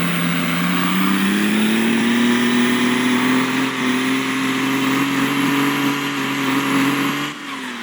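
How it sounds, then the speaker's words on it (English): A truck engine in Farming Simulator 2022 drones loudly and steadily as it drives, its pitch rising gradually and then holding before it eases off at the very end. "drive over to our other truck"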